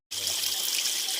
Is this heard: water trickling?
yes